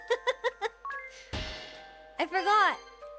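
In the Bravely Default Flying Fairy HD Remaster video game, a wake-up bell chimes four quick, bright strikes. A burst of noise follows, then a rising voiced cry near the end.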